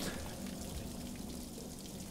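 Water pours steadily from a sink tap in the video game Bioshock Infinite, a continuous close splashing rush with no voices.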